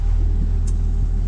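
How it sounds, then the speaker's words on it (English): An engine pushes a sailing yacht across calm sea in the Banda Islands of Indonesia, giving a steady low, close throbbing hum with a rapid even pulse and a faint brief hiss midway. "The motor's just purring away."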